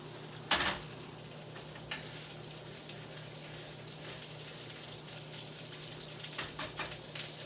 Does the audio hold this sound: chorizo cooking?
yes